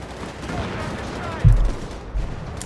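Panzer III tank gun firing at a Greyhound armoured car in Company of Heroes 3, a heavy cannon boom followed by a second, weaker thud over a dense, noisy battle bed.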